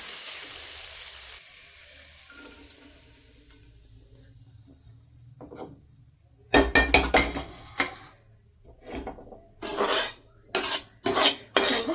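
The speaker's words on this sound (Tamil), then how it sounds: "இப்போ இது ஒரு பிளேட்டில் மாற்றிக்க போகிறேன் நான்" Sautéed food being moved from a kadai to a plate: a low hiss at first, then a run of sharp metal scrapes and clanks of a spatula against the pan, loud, close and irregular, with no speech.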